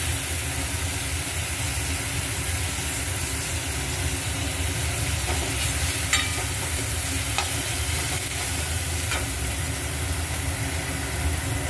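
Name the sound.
chopped garlic frying with onions in a pan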